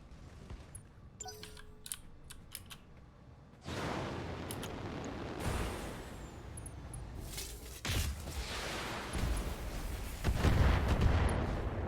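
Weapon shots from battling mechs in the Battletech video game, a few sharp bursts and heavy impacts spread across the clip, fairly quiet at first and building louder toward the end.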